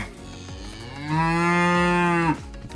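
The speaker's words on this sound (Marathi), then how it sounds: "ते जर्सी गाय आहे" A Jersey cow gives one loud, drawn-out moo close by, lasting just over a second, with quieter farmyard background noise before and after.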